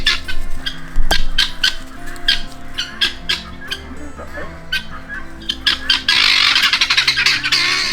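Guinea fowl squawk on a countryside walk in Hampshire: loud, harsh, repeated rasping calls from several birds close by, coming in uneven bursts that build into a dense chattering clamour near the end.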